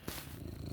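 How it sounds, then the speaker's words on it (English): A contented house cat purrs close by, a soft, continuous rhythmic rumble with steady pulses and no talking over it. "I've got my happy cat purring beside me, which is fabulous."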